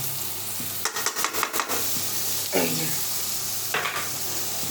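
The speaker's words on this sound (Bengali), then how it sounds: "পেঁয়াজটা ভাজা হোক তারপরে আমি ফিরে আসতেছি" Steady sizzling of onions frying in oil, with a few quick scraping stirs near the start and another brief stir later.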